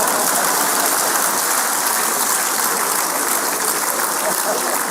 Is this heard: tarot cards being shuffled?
no